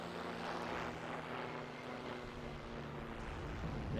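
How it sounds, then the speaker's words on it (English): Propeller aircraft drone from an enemy plane in a video game, a steady loud engine hum with low tonal lines held throughout, without distinct gunfire bursts. "an enemy plane is firing on me"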